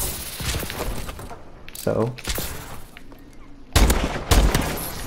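Gunfire in the video game Call of Duty: Advanced Warfare, with a few sharp bursts of shots spread across the moment, loud and close, mixed with a player talking and game noise.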